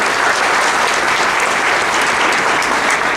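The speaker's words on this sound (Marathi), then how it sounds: "टाळ्यांचा आवाज कमी होतो." Sustained applause from an audience at a school gathering, steady and dense throughout with no pause, many hands clapping at once.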